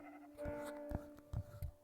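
A few short sheep bleats, quiet and slightly distant, spaced irregularly over a soft background.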